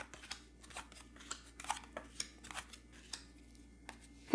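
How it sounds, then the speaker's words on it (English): Tarot cards are tossed down and handled on a table in a run of light, irregular slaps and flicks, close and fairly quiet, with no talking. "I'm going to throw down all 5 cards."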